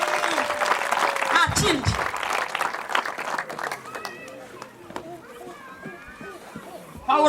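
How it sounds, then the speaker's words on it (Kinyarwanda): Church choir congregation applauding for Jesus during a Karumeri choir worship service, broad sustained clapping mixed with shouts and a speaking voice over it. "Zamurira Yesu amashyi menshi cyane."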